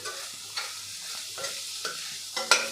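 Spices are stirred into bitter gourd vegetable in a pan, a soft low sizzle with several spoon scrapes and light taps against the pan spaced through the short stretch, close by and without talk.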